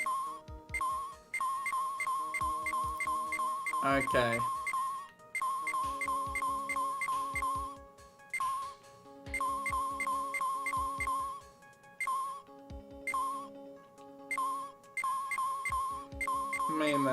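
Repeated electronic pinging beeps from a radio wave detector in a cartoon scene, coming in steady rhythmic bursts with short pauses between them, while a voice speaks briefly once.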